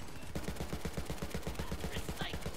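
Rapid gunfire from a weapon in Borderlands 3, a fast, evenly spaced burst of shots that runs through the whole stretch at moderate level.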